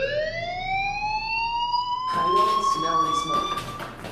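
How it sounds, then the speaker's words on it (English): A fire alarm in the video game Life is Strange wails with a rising, siren-like tone that holds steady, then pulses in rapid repeated bursts, loud and close. "do you hear that fire alarm? That means you should be outside"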